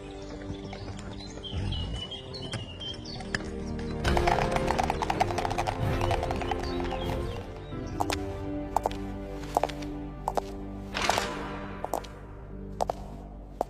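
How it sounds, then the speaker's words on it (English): Hooves of a horse-drawn carriage clip-clop in a steady rhythm, fairly faint and mixed with chirping birds and background music, with no spoken voice. "She climbed into the carriage, and they rode to the royal palace."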